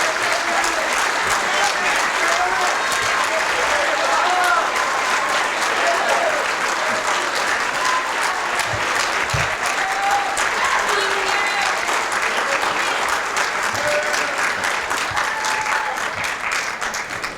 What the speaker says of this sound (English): please join me in welcoming our new members with a round of applause